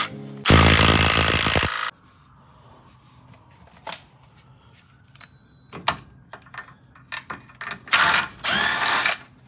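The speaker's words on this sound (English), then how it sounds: "I am removing the last 2 bolts here from my" A power tool spins out bolts from a car's slave cylinder during a transmission swap: a loud, steady whirring burst, then scattered metallic clicks and clanks, then another whirring run near the end.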